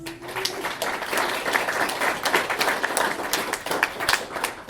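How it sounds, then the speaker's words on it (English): A conference audience applauds contributors after a technical session on rendering and templating, steady dense clapping throughout with a brief low tone at the start and no talk over it. "And round of applause for these folks that have done all this work on this."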